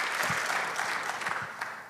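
A church congregation applauds loudly, a dense, even burst of many hands clapping together that carries on without a break and fades slightly toward the end.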